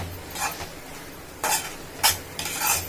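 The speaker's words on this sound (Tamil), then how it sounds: "நல்லா கிளறி வேக விடுவோம்" Ingredients for a Burmese-style lunch get stirred in a pan: a few separate bursts of scraping and shuffling, close by, with quiet pauses between them and no talk.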